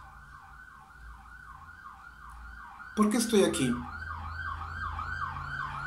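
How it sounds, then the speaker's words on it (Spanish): Emergency siren wailing in a steady repeating cycle at moderate distance, briefly joined by a louder burst of noise, while a person speaks. "¿Por qué suena esa sirena?"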